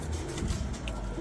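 Pigeons coo softly inside a humid loft as its doors are opened, a low steady murmur of several birds continuing throughout.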